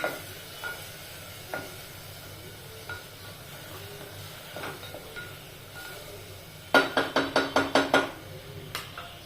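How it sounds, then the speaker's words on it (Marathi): Green chilli, ginger and garlic are stirred in a pan, soft sizzling under occasional spoon scrapes, then a quick burst of sharp rhythmic clanks as the utensil knocks against the pot near the end. "आपण याच्यात हिरवी मिरची अद्रक लसूण वगैरे टाकलेलं आहे छान परतून घ्यायचं आहे"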